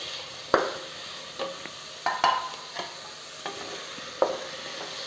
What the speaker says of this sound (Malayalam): നന്നായിട്ട് ഒന്ന് വഴറ്റിയെടുക്കണം. തക്കാളിയൊക്കെ നല്ലതുപോലെ കുക്കായി വന്നിട്ടുണ്ട്.